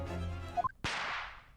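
A firework bang much like a gunshot sounds in the courtroom game Great Ace Attorney 2: a sharp crack with a hissing tail, after a sustained tone that breaks into rising blips.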